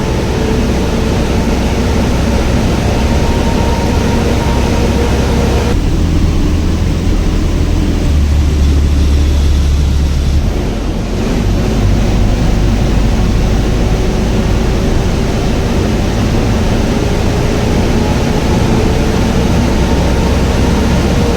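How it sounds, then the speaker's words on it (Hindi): Inside a luxury AC sleeper bus on the Mumbai to Goa run, the engine drones steadily and loudly with a deep low rumble and broadband road roar. The din runs continuously, shifting slightly in tone partway through, with no voices. "और आप इंजन का साउंड सुन सकते हो।"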